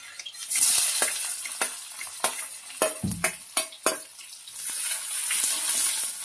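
Onion sautés in hot oil with cumin, mustard seeds and garlic. A soft, steady sizzle carries throughout, and a cluster of sharp spatula clacks and scrapes against the pan stands out in the middle.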